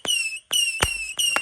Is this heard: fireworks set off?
yes